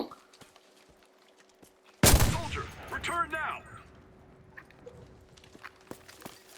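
A sudden loud gunshot burst in the video game Enlisted, followed by a quick rattling volley that rings out and fades, with faint clicks before and after.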